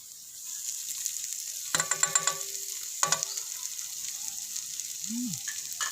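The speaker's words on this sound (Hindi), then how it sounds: "प्याज को हल्का सा गोल्डन ब्राउन होने तक फ्राई करेंगे" Onions frying in a pan with ginger garlic paste give a steady close sizzle, broken by a couple of short bursts of stirring clatter and a brief scrape near the end.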